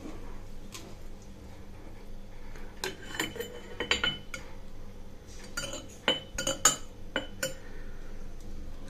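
A metal spoon scrapes and clinks against a pot while cooked rice is scooped in for kanji, with scattered irregular knocks and taps up close and no talking.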